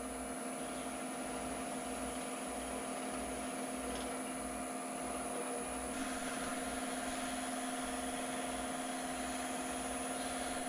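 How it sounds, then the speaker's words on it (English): A wood lathe runs just over 1000 RPM while a carnauba wax stick is pressed to the spinning piece, giving a steady mechanical drone with tonal whine and faint rubbing, no talk. "Got the lathe running just over 1000 RPM."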